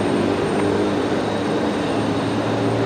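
A Velocity airliner taxis at Brisbane Airport at night, its engines a steady, loud broadband roar with a low hum that holds evenly throughout, no voices.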